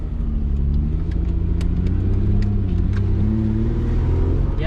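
Engine of a 3G Mitsubishi Eclipse idling rough, a steady loud low rumble with an uneven, lumpy pulse that runs throughout, close up and with no talking over it.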